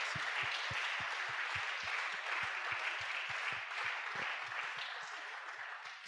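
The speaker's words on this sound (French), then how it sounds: "Est-ce que tu peux acclamer pour le Seigneur?" A church congregation at a Sunday thanksgiving service claps and applauds for the Lord, a dense sustained crowd applause with a steady rhythmic clap beat running underneath that tapers slightly toward the end.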